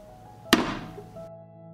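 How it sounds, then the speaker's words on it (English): A pot filled with jars and lukewarm water is set down on a stove with a single dull thud, followed by a brief ringing decay over a low steady hum. "I put the pan on the stove."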